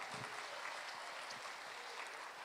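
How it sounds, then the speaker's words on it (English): An elementary school audience at the Mayor's Education Awards claps for King Springs Elementary, with the applause heard quietly and distantly as a soft, continuous patter for a couple of seconds. "One more time, big round of applause for King Springs Elementary"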